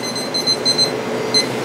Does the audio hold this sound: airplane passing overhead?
no